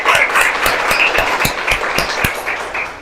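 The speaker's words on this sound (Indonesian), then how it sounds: "tepuk tangan untuk kita semua" A class of middle-school students at SMP Negeri 5 Denpasar claps, a moderate, fairly close patter with distinct individual claps standing out, holding steady for about three seconds before fading slightly.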